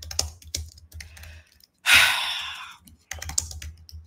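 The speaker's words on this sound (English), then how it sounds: "You hear me typing and sighing?" Fingers type on a computer keyboard in short bursts of close, crisp key clicks, broken midway by a loud, drawn-out breathy sigh before the tapping resumes.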